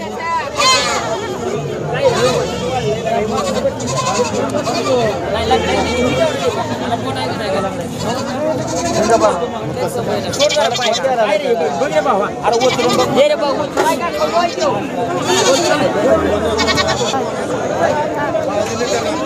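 Goats and sheep bleat over and over amid a busy crowd at a livestock market in Sangola, people talking and murmuring all around in a noisy outdoor setting.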